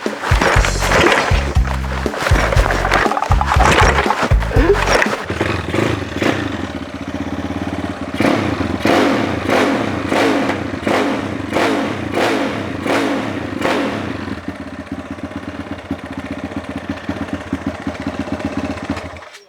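A modified motorcycle engine with a 74 mm bore, a 12 mm crank stroke increase and a mid gasket starts with loud, choppy bursts, then revs hard in a rapid series of sharp blips, alone and close up.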